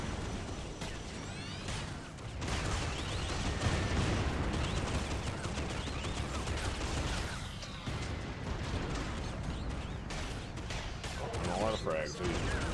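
A heavy gun fires in the video game Project: Snowblind, with a steady barrage of booming shots and blasts over rumbling game noise, loud and continuous.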